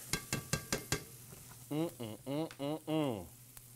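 Garlic, shallot and ginger sizzle in a pan for shrimp pasta, giving quick crackling pops at first. A voice then talks over the quieter frying.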